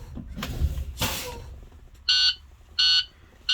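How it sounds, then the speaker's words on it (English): Low air warning buzzer on a First Student school bus, sounding as air pressure is fanned down toward 60 psi: three loud, steady electronic beeps at an even pace, following a few seconds of hiss and cab noise. "Warning alarm has come on, as well as the warning lights on the gauges"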